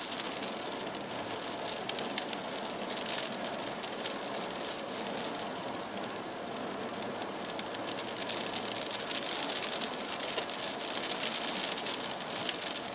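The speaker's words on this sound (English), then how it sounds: "Playing in the hail, everybody." Hail pelting down during a storm near a brewery parking lot, a steady dense patter of impacts filling the scene without letup, loud and close like heavy rain on a hard surface.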